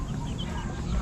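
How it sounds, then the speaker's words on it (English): Barred Rock Americana rooster, about four to five months old, clucking at a living history farm during a fall folk art festival, with a dense, steady murmur of crowd and farm noise filling the short stretch. "This big boy is a barred rock Americana rooster"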